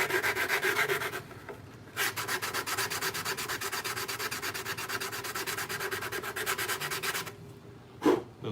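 A Mandalorian helmet is sanded by hand with 320 grit sandpaper, giving close rhythmic scratchy strokes in a fast steady run with brief pauses, heard alone without talk.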